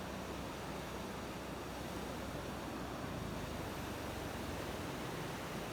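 Soft, steady wash of ocean surf on a white sand beach at Chao Lao Beach, Chanthaburi, Thailand, a continuous hiss of breaking waves heard from a distance, with no voices.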